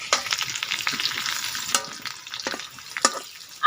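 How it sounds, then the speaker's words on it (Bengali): Potatoes with salt and turmeric fry in oil in a large kadai over a village clay stove, a soft sizzle under close, irregular clatters of stirring and scraping, with no voices. "আলুটা ভেজে নিলাম।"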